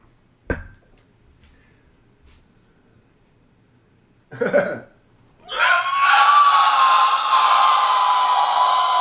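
A person makes a pitched, growling scream in the style of black metal crossed with Tibetan throat singing: a brief close shriek, then a loud sustained raspy tone that keeps going to the end.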